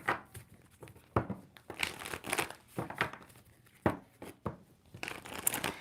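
A deck of tarot cards is shuffled by hand during a love reading, giving fairly quiet, close crinkly riffles and soft slaps in uneven bursts, with no one speaking.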